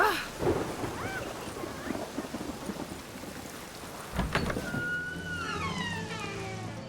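Steady rain with a heavy thunder crack in the Star Wars Jedi: Fallen Order video game, a continuous wash of rainfall under a sudden rumbling boom, followed by distant ringing tones.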